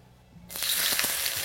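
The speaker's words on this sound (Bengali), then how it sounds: "তেলটা যখনই হালকা একটু গরম হয়ে যাবে, তখন এখানে দিয়ে দিন আদা, রসুন আর কাঁচা লঙ্কা" Chopped ginger, garlic and slant-cut green chili hitting hot oil in a pan for veg thukpa, a sudden loud sizzle bursting in after a quiet moment and hissing steadily, close by, with no talking.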